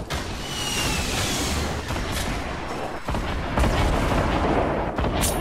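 Heavy, chaotic gunfire and booms in a 50-versus-50 Fortnite battle royale match, a dense continuous wash of distant and nearer shots with a few louder cracks.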